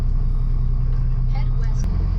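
A bus motorhome's engine rumbles steadily at low pitch while it slowly backs up, a continuous close drone with faint passing noises above it.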